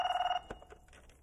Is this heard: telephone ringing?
yes